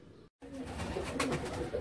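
Pigeons kept for high-flying racing coo softly and continuously at close range, a low, steady throaty warble after a brief silence, with no talking over it.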